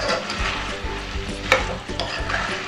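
A spatula stirs pork in a pan for an Assamese-style pork with lai xaak, scraping and turning the meat in a steady rhythm over an ongoing sizzle, close and fairly loud, with no voices.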